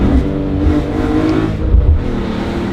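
BMW E46 M3 CSL engine pulling hard while driven, a loud, rough, continuous mechanical roar heard from inside the car that rises and eases with throttle, with deep rumbling pulses and no talk.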